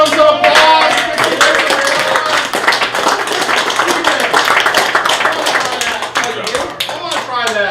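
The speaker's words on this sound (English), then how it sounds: "Let's give them some applause." Audience at an evening improv comedy show applauds steadily, a dense wash of clapping hands filling the room with some voices mixed in.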